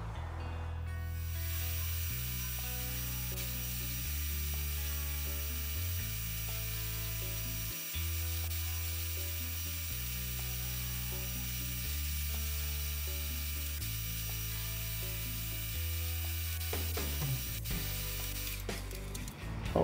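Machining cut on an aluminum boat clamp held in stacked vises: a steady, loud whirring grind with a regularly stepping tone that cycles every couple of seconds for the whole stretch, alone without talking.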